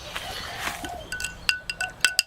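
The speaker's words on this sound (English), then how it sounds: "So then give it a bit of a stir. A spoon as well." A spoon stirs a drink in a glass. After a soft swirl, a quick run of bright, close clinks rings out as the spoon strikes the glass.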